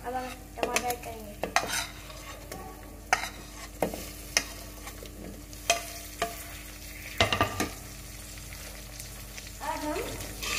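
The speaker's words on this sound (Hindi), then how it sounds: "अब हम टमाटर ऐड करेंगे।" Tomatoes added to onion and garlic already cooked in a pan for Hyderabadi chicken biryani, then stirred: a soft continuous sizzle broken by repeated scraping and clattering spoon strokes, close up, with no talking.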